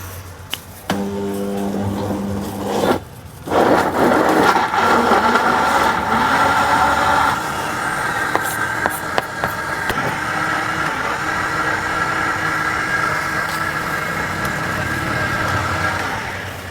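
A kitchen blender whirs through beetroot, mint leaves and water, starting with a few short bursts, then a loud steady grinding that settles into a continuous high whine.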